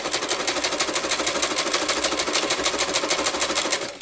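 A sewing machine stitches through two thicknesses of fabric, a loud, rapid, even mechanical rattle that runs continuously for several seconds before stopping abruptly, with no voices over it.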